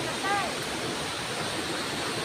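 Waterfall at Tso Kung Tam in Tsuen Wan, Hong Kong, on a rainy day: a steady, loud broadband rush of falling water filling the whole clip without pause.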